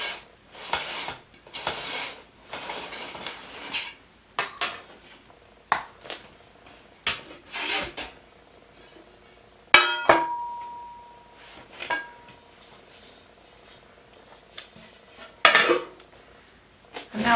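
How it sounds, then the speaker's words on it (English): A knife scraping around the sides of a metal cake pan to loosen a chocolate peppermint cake, heard as short, separate scrapes and metallic clinks and rasps, close and clear, with no talking. "just run a knife around the side of the pan to loosen the cake from the sides"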